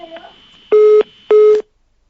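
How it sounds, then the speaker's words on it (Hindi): Telephone line tones as a caller's connection drops during a live phone-in show: faint garbled line noise, then two loud, steady beeps of equal length, each lasting about a quarter second, separated by a short gap, then silence. "फोन कट रहा है"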